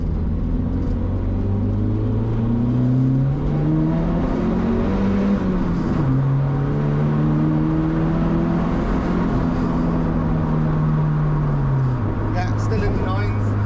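A Volvo 940 Turbo running 1.5 bar boost accelerates steadily on a bypass, heard from inside. The engine note climbs through gears in rising sweeps, with a brief drop between pulls, loud and continuous.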